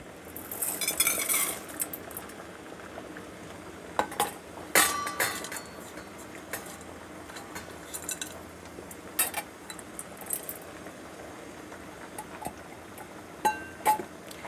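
Beeswax and oil being measured out and placed into a small double boiler, heard as scattered light clinks, taps and clatters of utensils and containers at close range amid quiet pauses.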